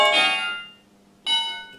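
A church bell voice on a Denn DEK610 synthesizer rings out in two separate struck tones, each with a bright, harmonic-rich attack that decays slowly, the second strike landing after a short pause; no talking.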